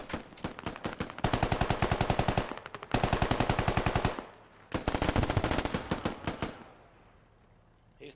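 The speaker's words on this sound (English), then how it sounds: "Careful, he's shooting through the walls." Automatic weapons rattle in Squad on the Yehorivka map, with enemy rounds shooting through walls in loud, rapid bursts lasting a second or more and separated by brief pauses.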